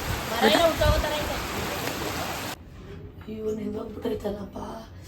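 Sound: rain falling

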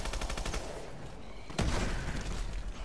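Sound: gunfire from PDW weapon in Advanced Warfare video game

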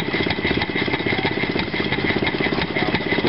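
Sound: antique engine with bolted-on carburetor running

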